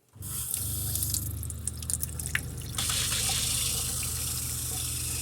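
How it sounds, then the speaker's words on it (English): Antifreeze pumped through the hot water faucet of a fifth-wheel RV in bypass mode, a steady close rush of running liquid into a sink that grows fuller and louder partway through, with no talking. "We'll open up the hot water now."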